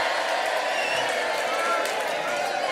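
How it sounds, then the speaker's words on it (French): A studio audience at a French radio Bible quiz claps and cheers in a dense, steady burst lasting a few seconds, with excited voices mixed in. "Allez, on applaudit."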